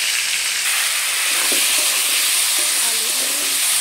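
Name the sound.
potatoes frying in oil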